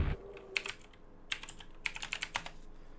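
Computer keyboard typing in quick bursts of crisp clicking keystrokes, close and fairly quiet, with short pauses between clusters of taps.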